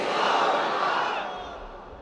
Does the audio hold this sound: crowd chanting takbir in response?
yes